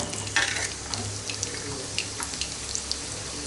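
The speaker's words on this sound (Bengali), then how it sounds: "সবগুলো দিয়ে আমি ভালো মতো এটিকে নাড়বো" Cardamom, cinnamon, peppercorns and onion stirred as they fry in a pan, a steady wet sizzle broken by light spatula scrapes and clinks, close and unbroken.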